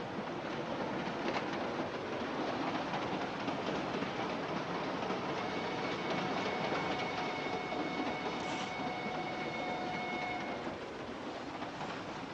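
Continuous rumble and rattle of a train rolling along the tracks, with faint metallic squeals rising and fading over the steady clatter.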